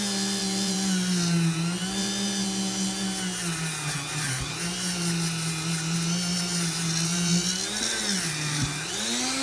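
A steel wire wheel on a rotary tool scrubbing a part of a vintage K&B 3.5 outboard engine, a continuous high whine with a buzzing abrasive edge that dips briefly in pitch as the wheel bears down, close and steady.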